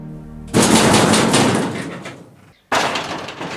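A house door bangs hard, with a loud impact that decays over about two seconds before a second heavy bang follows.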